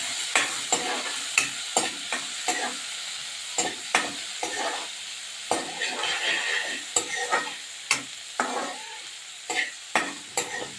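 Dry prawns frying in a pan for an eggplant and tomato curry, with a steady sizzle broken by repeated sharp scrapes and stirring clatters at an uneven rhythm, close up and with no talking.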